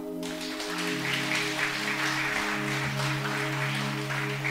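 A church congregation claps together at a worship service, a dense, steady patter of many hands over a sustained organ or keyboard chord, moderately loud and filling the room.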